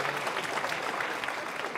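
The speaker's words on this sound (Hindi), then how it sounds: "इस बात पर आपकी तालियां चाहिए।" Fairly faint but continuous applause from the audience at a televised Holi comic poetry gathering, an even patter of many hands with no clear speech over it.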